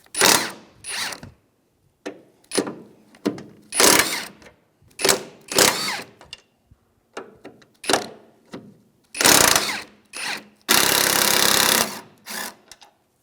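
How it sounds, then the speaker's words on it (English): Removal of the four 14 mm strut top bolts on a 2007-2015 Mazda CX-9, heard as loud, close bursts of a power ratchet or impact tool, repeated in short spurts with pauses and one longer run near the end. "Now working on the top, we're going to remove our 4 bolts here."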